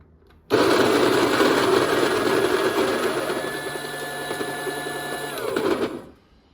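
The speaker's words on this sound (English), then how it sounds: "Here's the old grinder set up to grind." An old manual coffee grinder crushes a few beans in one continuous, fairly loud grinding run of about five seconds, the tone easing slightly as it goes before stopping abruptly.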